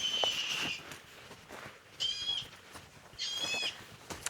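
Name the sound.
played recording of bird-of-prey calls to deter birds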